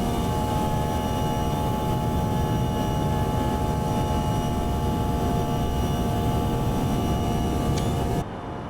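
An airplane taking off roars steadily and loudly at close range, a sustained engine drone with a strong low rumble that holds level before cutting off abruptly near the end.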